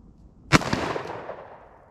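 A Smith and Wesson 686+ revolver fires a single 110 grain round, one sharp crack followed by a long fading echo, heard alone at moderate distance.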